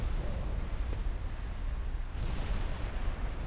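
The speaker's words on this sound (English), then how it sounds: "Some of these torpedoes are just gonna miss. But some of them are hitting." Torpedo hits on warships in Ultimate Admiral Dreadnoughts, heard as a continuous heavy rumbling roar of explosions and booms, dense and loud, with a sharper burst near the start.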